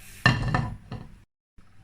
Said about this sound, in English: Take the frying pan, put it on the stove.